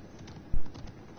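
Horse hooves from the Fortnite video game thud once sharply, followed by a fainter clop, brief and close against a low background.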